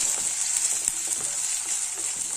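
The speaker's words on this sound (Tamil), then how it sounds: "இஞ்சி பூண்டு விழுதை வந்து இதில் சேர்த்துடலாம் பச்சை வாசனை போகிற அளவுக்கு வந்து நல்லா வதக்கி விட்டுருலாம்" Ginger garlic paste sizzles steadily in a pan while being sautéed, a continuous close frying hiss with faint stirring scrapes, no voices.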